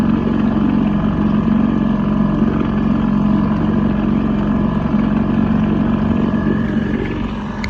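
A big fishing boat's engine drones loud and steady at sea near Koh Chang, Thailand, a low continuous rumble with no talk over it.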